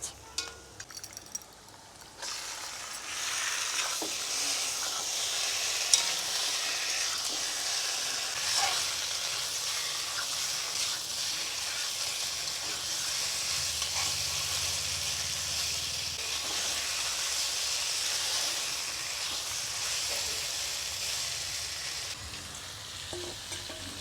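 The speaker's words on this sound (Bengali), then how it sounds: "মাছটা আমি এইভাবে করে একটু কষিয়ে নেব নাড়াচাড়া দিয়ে নেব" Pieces of stingray fish sizzle steadily in a pan over gas with garlic, onion and ginger, stirred now and then, the loud frying hiss continuous and close with occasional utensil clinks, no voices.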